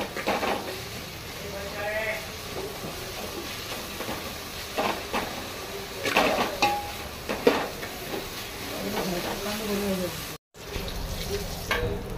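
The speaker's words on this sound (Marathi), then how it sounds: "तेका कांदो सॉफ्ट जावपाक लागून इल्लेशें ओके बरो असो तेका फ्राय करून घेवया" Chopped onions frying in a pan while mutton curry is being cooked, with a steady sizzle and scattered stirring clatter running throughout at close range.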